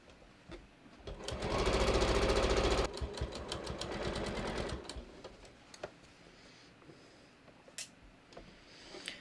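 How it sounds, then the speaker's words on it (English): A sewing machine stitches a jeans hem, a loud rapid mechanical whir running for a few seconds, then slower intermittent ticking stitches and quiet handling sounds as the fabric is moved. "Notice I'm sewing inside the circle."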